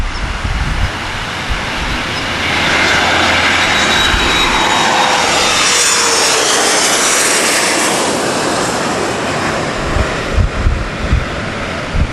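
A fixed-wing airplane passes overhead with a loud, broad engine roar that swells and holds steady, then slowly fades, heard outdoors at a plane-spotting spot.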